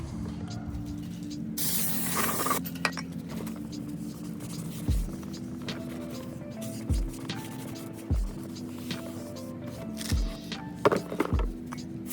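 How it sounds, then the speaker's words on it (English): Brake cleaner hisses in a short, loud spray burst onto a new rear brake rotor on a 2011-2021 Dodge Durango, followed by several dull thumps and clanks of work in a garage. "spray a little bit of brake cleaner on this new disc"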